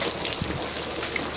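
Water gushing hard and steady in a continuous, loud rush, close by, with a faint knock near the start and no talking over it.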